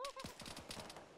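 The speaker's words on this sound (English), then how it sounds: "Shots." A rapid burst of about a dozen gunshots rattles out in the Arma 3 video game, fairly faint and distant, with a short tone sounding at the start.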